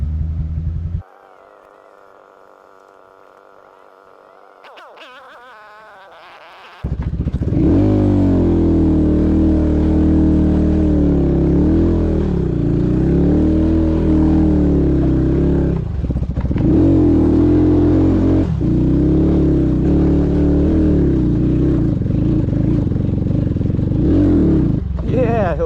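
A vehicle engine roars and revs hard as it climbs a steep off-road trail with the clutch slipping, the revs rising and falling loudly with clatter and scraping, after a quieter stretch, and voices speak over it.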